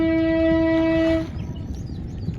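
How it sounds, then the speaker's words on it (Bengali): A train on a railway line right beside a riverside campsite sounds a long, loud horn blast. Its rumbling, rattling wheels follow close by. "এই যে দেখা যাইতেছে ট্রেন যাইতেছে।"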